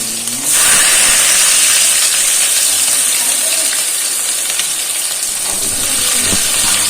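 Chopped onions drop into hot oil for yellow dal and burst into a loud, steady sizzle that starts abruptly and hisses on evenly, with a brief voice at the start.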